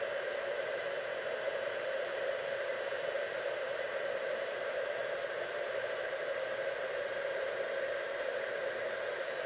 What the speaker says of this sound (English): Just gave my hand a good hairdryer.